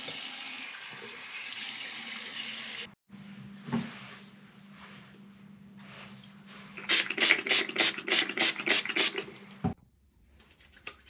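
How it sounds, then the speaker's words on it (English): Water runs from a tap into a sink during a rinse after shaving with a safety razor, with a pause and a clunk, then a quick series of about eight splashes before it stops. "So I'm going to rinse off and do the post-shave routine."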